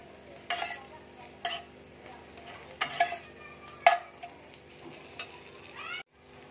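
Ginger frying with onion in hot oil, a soft sizzle under several distinct stirring scrapes and utensil knocks spaced about a second apart, quiet overall, ending in a brief near-silent cut.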